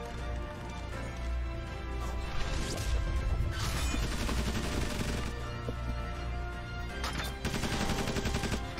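Gunfire in Tiny Metal: Full Metal Rumble aimed at the unit Tsukumu, loud repeated crashing shots and bursts in several clustered volleys with impact smashes, heard alone.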